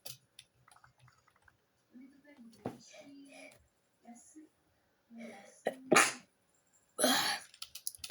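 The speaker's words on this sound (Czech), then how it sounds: "Tak jsem kýchl." A single sharp sneeze bursts out near the mic during a Minecraft Eggwars game session, preceded by scattered quiet talk and game clicks, with a throat-clearing noise right after.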